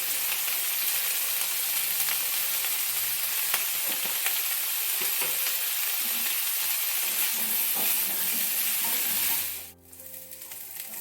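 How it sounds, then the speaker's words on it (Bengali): Cauliflower fries in hot oil in a kadai with salt and turmeric, a dense steady sizzle heard close for most of the time before it drops away sharply near the end. "ফুলকপিগুলোকে আমি ভালো করে ভেজে নিব।"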